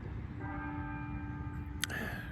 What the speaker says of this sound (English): Mama gets to hear the church bells.